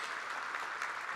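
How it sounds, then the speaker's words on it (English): Conference audience applauding the presenters and organizing team, a dense, steady wash of many hands clapping at close range for about a second with no voices. "if we could have a round of applause to the WorkplaceNL team and all the presenters"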